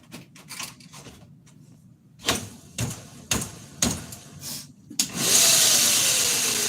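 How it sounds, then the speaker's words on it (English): Several sharp clunks and knocks come from a belt grinder while a finer 120-grit belt is fitted for polishing an axe handle, then the motor starts up into a loud, steady whirring hiss. "I'm going to swap this over to a little bit finer belt. I'm going to go 120 just to polish up the top of that handle there"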